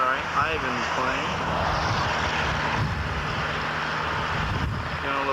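A small propeller model airplane drones overhead, its engine pitch rising and falling as it circles, with people talking nearby.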